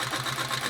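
An old Singer sewing machine, free-motion quilting, runs in a steady continuous mechanical whir with a fast stitching rhythm, close and even throughout, with no voices.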